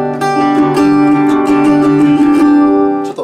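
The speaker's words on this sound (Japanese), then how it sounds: "2本目のギターはこんな音です。" A second acoustic guitar rings out in a short close strummed chord passage, notes sustaining and overlapping with a few bright string attacks, alone without talk.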